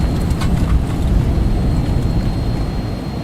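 Twin jet engines of a Phenom 300 at takeoff power in X-Plane 12, a dense, steady broadband roar with a low rumble, loud and unbroken, with no talking.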